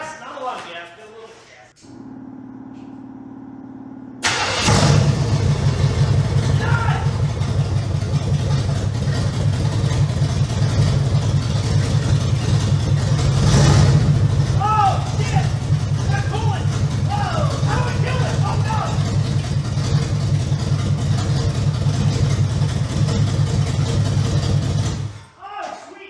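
A 1978 Camaro race car engine in a pole barn garage runs at a loud, steady low rumble with occasional revving, starting abruptly after a brief lower hum and cutting off near the end; voices are heard over it.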